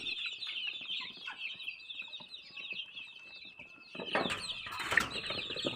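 Backyard local chickens cluck and call steadily at home, with a rooster-like cry and a burst of wing flapping near the end, close and moderately loud.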